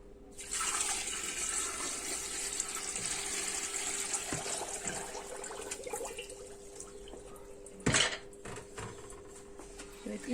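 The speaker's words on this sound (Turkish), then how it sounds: "2 kilo toz şekere 3 litre su ekliyorum" Water pours from a tap onto sugar in a pan for pumpkin jam, a continuous splashing rush that slowly thins, broken by a brief clatter near the end, close and moderately quiet.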